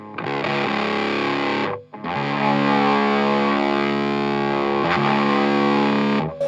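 A distorted electric guitar through a low-gain fuzz pedal rings out sustained fuzzy chords, loud and close, with a short gap before a second long strummed chord.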